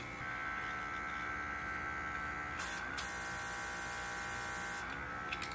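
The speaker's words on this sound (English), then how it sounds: "I turn my airbrush on and let's see." Nail-art airbrush running steadily with a close electric buzz and hum, broken by two short bursts of hissing airflow, with no voices.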